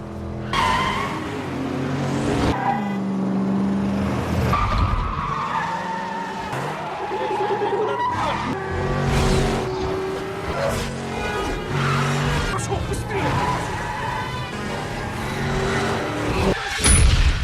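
A car chase in a Jason Statham action film, with Russian mafia cars pursuing, fills the scene with repeated tire squeals and skids over roaring engines, loud and continuous with sharp bursts.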